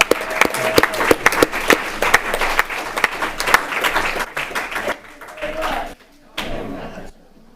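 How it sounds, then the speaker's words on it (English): An audience at a Canyon Lake city council meeting applauds the local quilters, a loud burst of clapping with a few sharp thumps that fades and stops, with voices heard briefly. "Can we give a round of applause to our quilters here in Canyon Lake?"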